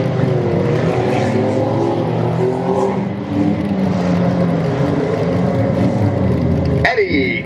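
Race cars roar around a dirt track at a demolition derby in Ludington, Michigan, engines droning and surging continuously with a loud burst near the end, under an announcer's running commentary.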